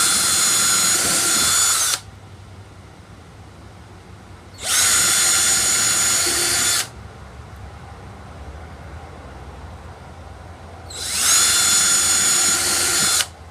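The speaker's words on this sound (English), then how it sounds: "what I like to do is just go ahead and pre-drill that." A power drill pre-drilling a thin wooden interior door whirs in three separate bursts of about two seconds each, close and loud, with quiet pauses between.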